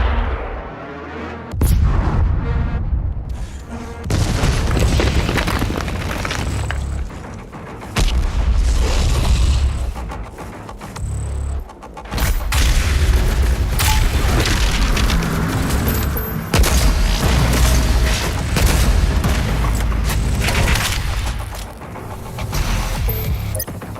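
Heavy booming weapon fire in the Doom Eternal video game, after a countdown, with deep blasts and rumbling mechanical noise over about twenty seconds and short pauses between loud bursts.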